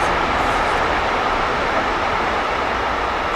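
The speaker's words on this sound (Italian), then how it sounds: "Scusate, È treno. il treno più lungo del mondo!" A long train rumbles past close by near a bat cave, a loud steady broadband roar that holds level for the whole stretch without voices.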